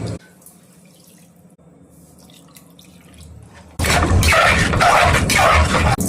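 Water splashes into a hot pan of veg Manchurian sauce with cornflour, erupting into a loud, sustained hiss and bubbling after several seconds of quiet low kitchen hum.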